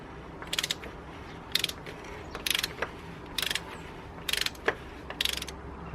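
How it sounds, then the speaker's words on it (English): Ratcheting clicks from a socket wrench loosening an engine oil filter cap in six short bursts, each a quick rattle of metallic ticks, close by against a quiet background hum. "Just pops over the oil filter cap nice and easy. I'm going to go ahead and crack this loose now."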